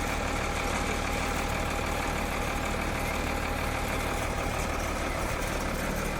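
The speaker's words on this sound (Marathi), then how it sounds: "आता ही चिरे घेऊन इलेली आहे गाडी" A loaded truck carrying laterite building stones to a house construction site in Kumbhavade, Rajapur, its engine rumbling steadily and close by, a continuous low drone with no break for the whole stretch.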